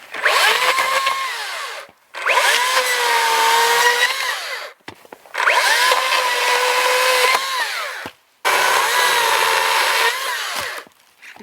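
An electric chainsaw cuts off a dead juniper limb in four loud, sustained bursts of whining motor and chain noise, each several seconds long, separated by short silent pauses.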